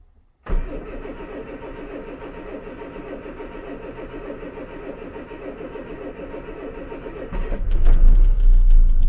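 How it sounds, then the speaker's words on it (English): An Austin Allegro engine, freshly serviced carburettor and choke out, cranks and catches, then settles into a loud, steady idle close by before the revs rise toward the end; no one speaks. "just a question now of turning the key and seeing if she'll fire"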